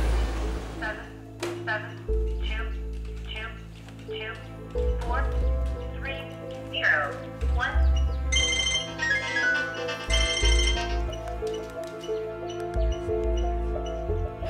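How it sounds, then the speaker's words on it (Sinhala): An incoming call sets a telephone ringing, its electronic ringtone repeating in bursts beneath ongoing spoken narration. "එක දවසක් එනවා මේ කෝල් එක ආන්සර් කරනවා"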